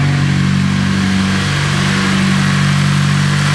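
A Honda Civic EM1 engine runs steadily on first start-up, a loud, close, even drone with a slight dip in revs partway through.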